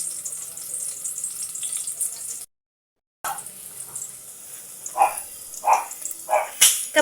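Onion and garlic sautéing in a pan for papaitan, a steady close sizzle with a brief cut to silence, then a few louder bursts of stirring and spattering.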